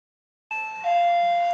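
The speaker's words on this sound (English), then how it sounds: "where's the doorbell?" A house doorbell rings a clear two-tone ding-dong, close and fairly loud, after a moment of silence, with the second tone lower and ringing on.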